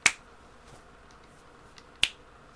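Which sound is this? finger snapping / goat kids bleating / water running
finger snapping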